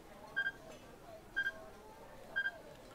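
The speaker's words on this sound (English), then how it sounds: "He heard the strange beeping sound again, subtly different than the first time, and this time it was closer." A strange electronic beeping in the video game 428: Shibuya Scramble, three short double-pulsed beeps spaced about a second apart, fairly quiet over a low background hum.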